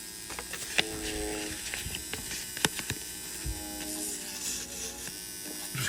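Small slot car electric motor spinning its shaft slowly while sandpaper is held against it, a faint steady whirring buzz with scattered light scratchy clicks and taps.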